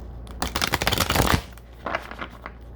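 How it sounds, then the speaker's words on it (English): Tarot cards are riffled in a quick, crisp shuffle close up, a burst of rapid flicking followed by a few softer slides and taps. "One shuffle on camera to get some of your energy into these cards"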